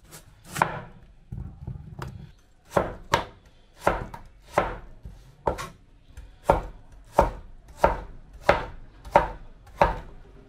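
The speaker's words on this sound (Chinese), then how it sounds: "所有食材全改刀切成小丁儿" A kitchen knife chops potato, carrot, onion and pepper into small dice on a board, a steady series of about fifteen crisp, close knocks at an even rhythm, with no talking.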